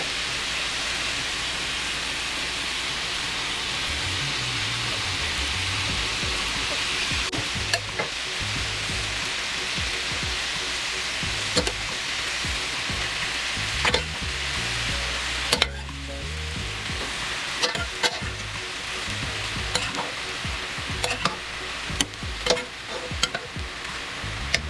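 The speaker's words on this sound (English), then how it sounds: "Now we're going to add in our broccoli." Shrimp stir-fry sizzling steadily in a hot pan as broccoli goes in, a continuous frying hiss with scattered clicks and scrapes of stirring, close and fairly loud, with no talk.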